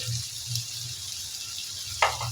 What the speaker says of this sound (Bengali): পটলের সাথে পেঁয়াজটাকেও আমি ভেজে নেব